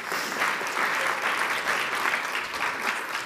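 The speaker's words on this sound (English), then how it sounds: "Huge round of applause." A crowd applauds steadily at an NWSL expansion event, a dense, even wash of clapping throughout with no break.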